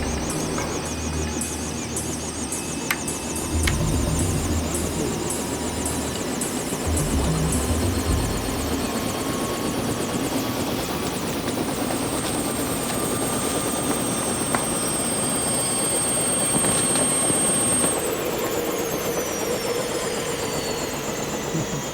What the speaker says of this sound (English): lifting her into the waiting helicopter. Not an easy task with the moving blades.